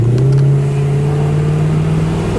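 A red 1964 Chrysler 300K convertible with its 413 V8 pulls away in a short burst of acceleration, its engine droning steadily and close, the tone rising slightly throughout.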